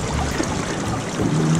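Steady broadband rush of river water pouring into a Dragonfly gold sluice, continuous and close, with no voices over it.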